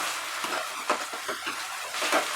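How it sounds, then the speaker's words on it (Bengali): Tomato and green chilli paste sizzles in a pan over medium heat, a dense, close, continuous frying hiss broken by the soft scrape of stirring. "আরো 1 মিনিট আমি এটাকে ফ্রাই করব মাঝারি আঁচে"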